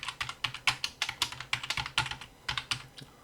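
Fast, steady typing on a computer keyboard, including a Ctrl+Q shortcut during PLC programming, with close, crisp key clicks in a continuous, slightly uneven rhythm and no talking.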